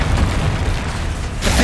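A Confringo spell explosion in Hogwarts Legacy, a loud, dense, rumbling boom that fills the clip and swells again at the end.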